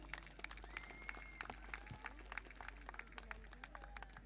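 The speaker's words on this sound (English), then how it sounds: "Give a round of applause to our Chief Minister." Applause for the Chief Minister at the closing ceremony of the 2nd North East Olympic Games, a faint, distant crowd clapping in scattered bursts beneath a low steady hum.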